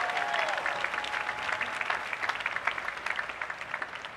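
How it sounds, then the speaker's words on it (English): Audience applause at a university graduation ceremony, steady dense clapping from a large crowd that builds slightly with scattered louder claps, heard without speech. "They deserve a round of applause."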